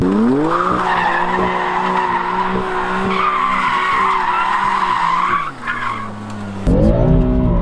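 A BMW M3 skids with a loud, sustained tyre squeal over a steady engine drone. The squeal wavers, dips briefly near the end, and then swells again, close and alone.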